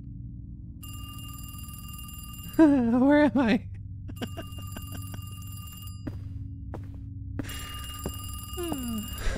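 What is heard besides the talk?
telephone ringing in a horror video game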